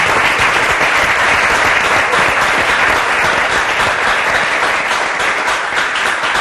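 A church congregation applauding to acclaim Jesus during a service, dense continuous clapping at a steady high intensity throughout, with no pauses.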